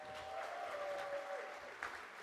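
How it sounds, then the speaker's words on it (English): An audience at a closing ceremony with demos applauds, a faint, even patter of clapping sustained throughout, heard from a distance. "Please give them a big round of applause."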